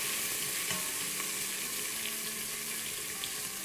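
Ginger garlic paste frying in hot oil gives a loud, dense, steady sizzle and crackle filling the whole short stretch.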